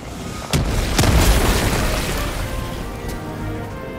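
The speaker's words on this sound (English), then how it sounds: "Throwing grenade!" Grenade blasts in Helldivers 2 during an assault on a bug outpost: two sharp booms about half a second apart, followed by a long rumbling, crackling tail of debris and fire.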